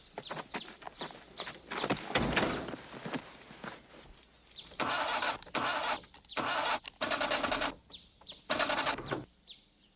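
A car engine in a film cranks and sputters through several repeated starting attempts, harsh bursts broken by short pauses, close and fairly loud with no talking.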